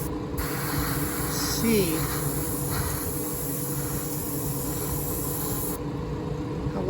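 An airbrush sprays Tamiya acrylic paint with a steady, continuous hiss close to the microphone, while a person talks over it.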